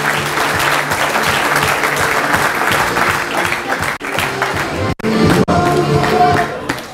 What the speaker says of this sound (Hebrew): מגיע להם מחיאות כפיים,